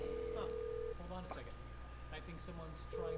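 Mobile phone dialing tones in Grand Theft Auto 5, a steady electronic tone at the start and end with short beeps between, heard alone at moderate level.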